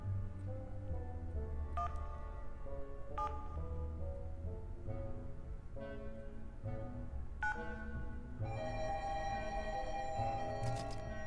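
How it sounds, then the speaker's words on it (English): Tonal beeps from a video game that resemble a telephone being dialed. Pitched tones are held and then step to new pitches over a steady electronic hum. A brighter chord of tones joins near the end. "It's like I'm calling a phone number."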